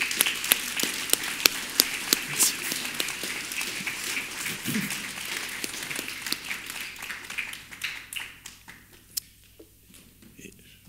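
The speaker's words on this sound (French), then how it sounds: "Je pense qu'on peut applaudir la famille." A gathered audience at a family presentation ceremony applauds. Sustained clapping with sharp individual hand claps gradually thins and fades toward the end, and a voice briefly gives thanks.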